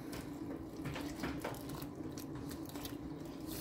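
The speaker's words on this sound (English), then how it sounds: "So now I'm pouring the water in and I'm gonna mix well until it forms like a nice dough." A steady stream of water is poured into flour in a bowl to make paratha dough, a quiet continuous trickle and splash close by with no voices.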